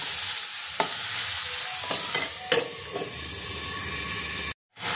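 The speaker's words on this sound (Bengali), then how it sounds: "চিকেনটা একটু সেদ্ধ হওয়া পর্যন্ত একটু ফ্রাই ভাজবো ভালো করে" Chicken fries in a pan with a steady, close hissing sizzle and a few sharp spatula knocks and scrapes, ending in a brief silent cut; no talking.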